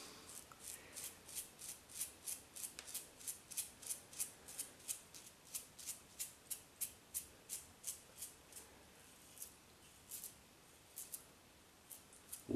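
A Gillette Superspeed Red Tip safety razor, lathered with Old Spice Fresh Lime shaving cream, cuts whiskers in a steady run of short, crisp scraping strokes, close and fairly quiet, about two per second with brief pauses.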